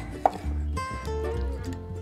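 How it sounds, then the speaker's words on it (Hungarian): A knife chops through raw chicken at the joint for paprika stew, giving one sharp crack and then a few dull cuts against a board, close and fairly quiet, with no talking. "Össze is aprítottam a csirkét."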